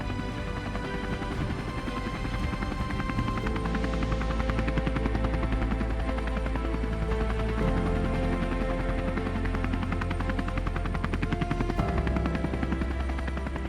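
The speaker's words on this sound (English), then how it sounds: "The Huey cutting through the high winds with unmatched agility." A Huey helicopter flies through high winds over vast open country near nuclear missile launch facilities, its rotor thumping steadily and loudly for the whole stretch under heavy wind rumble.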